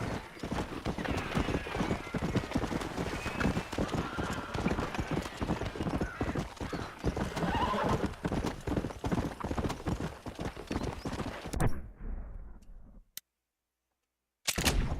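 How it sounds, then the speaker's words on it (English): Horse hooves clip-clop in a steady fast rhythm in the video game Red Dead Redemption, close and loud, with an occasional neigh and faint game gunfire, the hoofbeats cutting off abruptly near the end. "Tem um novo cavalo."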